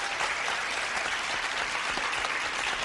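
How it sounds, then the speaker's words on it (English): An audience at an Islamic quiz event gives continuous, dense clapping as the winners come up to receive their trophies. "Can we please have a big round of applause for them?"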